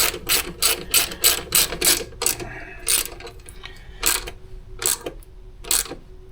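Ratchet clicking in quick bursts while snugging a bolt on the alternator of a 2000 Subaru Outback, a sharp close pawl chatter in repeated short runs with brief pauses between.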